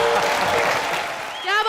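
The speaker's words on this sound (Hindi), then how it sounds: "जोरदार तालियां।" Studio audience on a comedy show breaks into a brief, loud burst of applause that fades slightly before a voice cuts in at the end.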